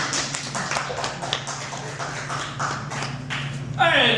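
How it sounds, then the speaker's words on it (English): Applause from an open mic audience, a lively round of clapping that sustains throughout, with a voice briefly speaking near the end. "Big round of applause for Reverend Pat."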